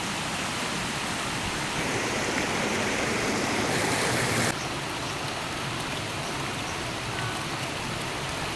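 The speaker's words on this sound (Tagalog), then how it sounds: "Welcome to Latasan Falls." Latasan Falls waterfall pouring steadily, a dense roaring wash of water that stays constant and close, briefly louder before settling to a slightly softer rush.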